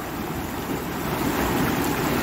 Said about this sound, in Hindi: ये पानी देखो फ्रेंड्स कितना बहाव से निकल रहा है